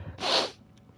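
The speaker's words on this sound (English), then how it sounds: "I'm going to sneeze." A single short, breathy sneeze bursts out close to the microphone and fades within half a second, with a faint sniff just after.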